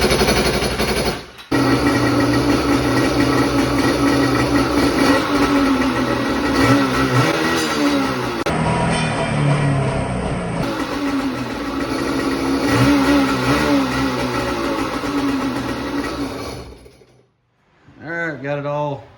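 A Kawasaki X2 engine with an upgraded carburetor runs steadily with a loud, buzzy, slightly uneven drone and a brief dip early on, then dies out near the end, followed by a short rustle.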